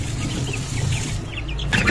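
Lohmann Brown chicks chirp with soft, scattered peeps while being fed, close by over a low background rumble.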